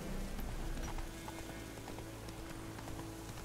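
Roach the horse's hooves clip-clop steadily in The Witcher 3, a close rhythmic trot on a soft path with light ambient patter behind and no talk.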